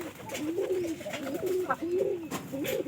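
Pigeons in a loft give repeated low, rolling coos close by, in a few slow phrases, with a faint flutter of wing and other birds in the background.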